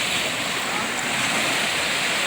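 Steady broadband roar of sea waves washing onto the shore, continuous and fairly loud with wind noise mixed in, no distinct breaks between surges.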